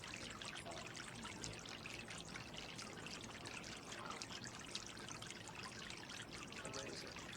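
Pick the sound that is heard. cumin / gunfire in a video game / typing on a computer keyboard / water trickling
water trickling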